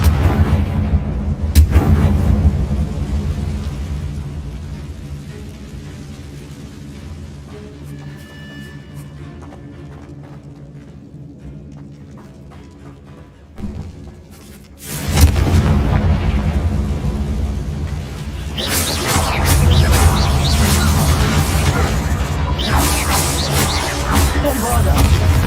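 Confringo fire-blast spells explode in the game Hogwarts Legacy: loud, booming, crackling bursts erupt after a quieter stretch of ambient rumble, with heavy roaring sustain and a brief spoken incantation.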